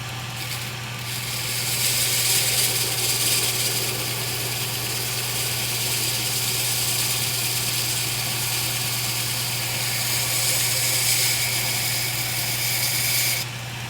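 A belt grinder rough-grinds a left-hand hollow-ground knife blade, giving a steady, loud, broadband motor hum and abrasive hiss that holds evenly for the whole stretch with no talking.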